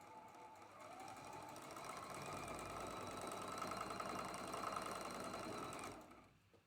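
A sewing machine stitches quilt blocks together in a continuous, even whir that runs for several seconds and then stops, faint and close with no talking.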